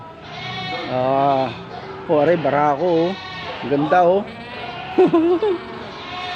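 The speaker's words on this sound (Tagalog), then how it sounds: "nakita na ho yung mga kambing dito" Goats on a goat farm bleating loudly and close by in several wavering calls, with someone talking between and over them.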